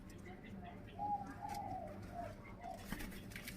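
Soft dove coos repeat in a low rhythmic run, fairly faint and close, among caged doves for sale, with someone talking quietly over them.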